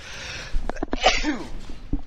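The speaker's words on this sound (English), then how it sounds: "That was a sneeze." A single sharp sneeze bursting out midway, close and fairly loud, with a quiet breath before it and faint noises after.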